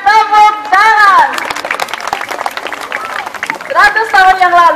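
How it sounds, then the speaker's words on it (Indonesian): Clapping from a crowd at a white tiger show at Taman Safari Indonesia II in Prigen, with a loud amplified voice talking over the start and end of the applause. "berhasil kembali kita berikan tepuk tangan"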